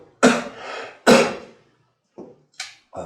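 A man coughs two loud, harsh times close to the microphone, then gives a few quieter throat-clearing coughs in an otherwise quiet room.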